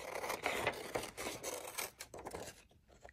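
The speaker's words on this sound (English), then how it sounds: "on this page, we'll cut out the pictures" Scissors snip and rustle through paper while pictures are cut out, a close series of short crisp cuts and scrapes that fades toward the end.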